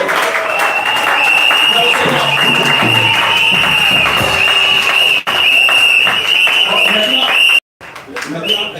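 A church congregation at a Yopougon wedding consecration claps and cheers loudly and continuously for several seconds, with voices mixed into the ovation, before it cuts off abruptly near the end.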